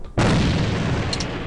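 A grenade detonates in the online shooter AVA: a sudden heavy boom that rolls into a sustained rumbling blast, loud and close.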